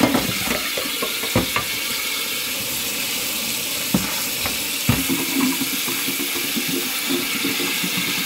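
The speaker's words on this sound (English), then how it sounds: "put them in the colander, run cold water" Steady rush of cold tap water splashing over Brussels sprouts in a colander in a sink, with a few sharper clatters and knocks over the continuous flow.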